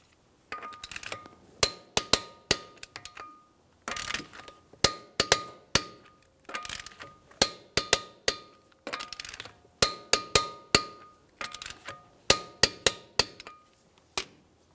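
A socket tool is worked on the wheel lug nuts of a 2006-2012 Ford Fusion, giving repeated sharp metallic clicks and clanks in uneven clusters, close and loud with quiet between them.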